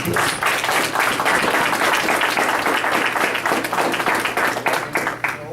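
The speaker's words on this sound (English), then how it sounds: "let's give a round of applause to our election committee" Sustained applause from an audience honoring the election committee at a council swearing-in meeting, dense steady clapping filling the room throughout with no talk over it.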